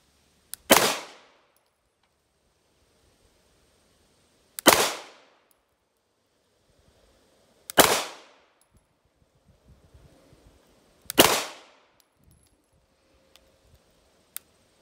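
Four single shots from a Sig Sauer P320 9mm pistol at an outdoor range, each a sharp, loud crack with a brief decaying tail, spaced a few seconds apart in slow, deliberate fire.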